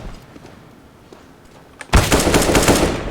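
Automatic gunfire from the Counter-Strike: Global Offensive video game: after a quiet stretch with faint scattered game sounds, a loud sustained burst of rapid shots erupts and continues steadily to the end.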